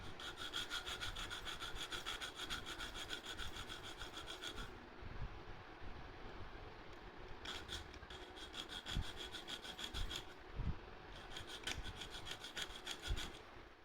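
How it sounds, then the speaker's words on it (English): A hand file worked back and forth along the edge file of a Swiss Tech multi tool, giving a close, steady rasping rhythm of repeated strokes with short pauses between bursts and no voices. "after filing for about 10 minutes, it's improved the quality of that edge file dramatically"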